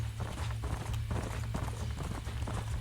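Horse hooves clip-clop steadily in the Red Dead Redemption video game as a herd of horses moves along, a continuous run of close, rhythmic hoofbeats over a low rumbling backdrop.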